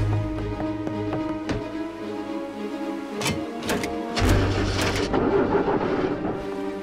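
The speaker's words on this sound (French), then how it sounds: "Qu'est-ce qui est arrivé au moteur?" Cartoon sound effect of a boat engine failing, its propeller tangled in seaweed: a sputtering, droning motor tone broken by several sharp clunks and bursts in the middle before it rumbles on, with no talk.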